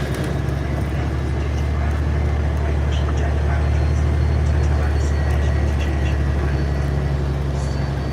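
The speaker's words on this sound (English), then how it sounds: "This bus basically sounds like any old regular buses." Steady low engine drone and rumble of an MBTA New Flyer XDE40 hybrid bus running on route CT3, heard from inside as a constant hum without clear breaks.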